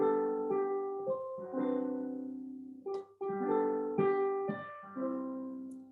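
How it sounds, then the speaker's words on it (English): Piano notes rolled upward in broken chords, each chord ringing and decaying before the next, played alone and clearly up close. "If I were to play with like the broken chords"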